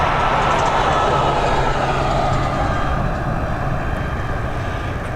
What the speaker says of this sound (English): we've got this A320 now heading over to Brussels